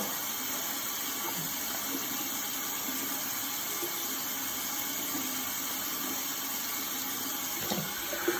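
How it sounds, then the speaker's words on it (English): A tap runs steadily into a sink during a nighttime skin care routine, giving a constant close hiss of flowing water with no pauses and no voices. "Should turn the tap off."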